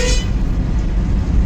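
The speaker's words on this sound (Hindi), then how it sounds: "बस वाले देखो कैसे हॉर्न मार रहे हैं, इनको जाने दो पहले।" A bus sounding its horn in heavy traffic on the NH48 highway, a short loud toot at the start that fades into a steady low rumble of engines and road noise.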